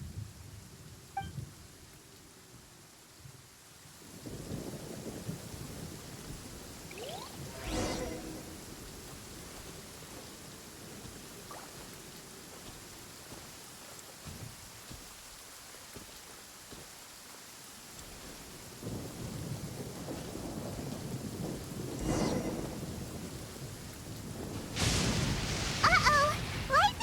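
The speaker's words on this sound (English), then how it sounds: "Uh-oh! Lightning storm!" Thunder and rain of a lightning storm in Genshin Impact: steady rainfall hiss with several sharp thunder cracks and rolling rumbles, growing heavier and louder toward the end.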